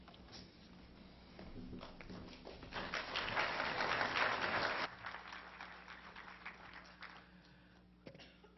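Applause from a church audience after an announcement about nightly dinners, starting modestly, swelling into a full round of clapping midway, then fading to scattered claps and room murmur.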